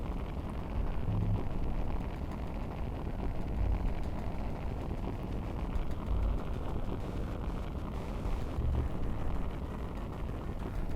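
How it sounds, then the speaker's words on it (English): A rocket launches in the VR game Moondust with a steady, loud roaring rush that holds unbroken for several seconds, and low thumps surface now and then beneath it. "And the rocket is off."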